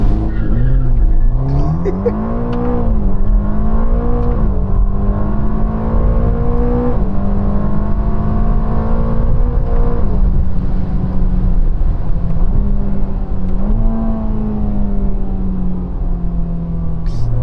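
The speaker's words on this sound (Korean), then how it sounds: "레이스 무대 놓고 론치를 작동시키고 출발" A Ferrari Roma revs up and pulls away hard from a launch control start. Its loud engine note climbs and holds strong, rising and falling as it shifts through the gears.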